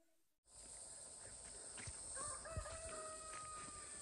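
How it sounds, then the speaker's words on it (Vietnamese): A jungle fowl crows faintly in the distance, with a steady high outdoor hiss and a few soft rustles nearby. "Gà rừng gáy nhé."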